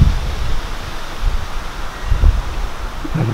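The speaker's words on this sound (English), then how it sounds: "it's windy" Steady rustling of tree leaves in gusty wind, a continuous breathy whoosh with soft low buffeting gusts, no voices.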